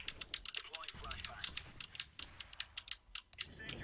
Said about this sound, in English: Are you sure it's my keyboard you can hear?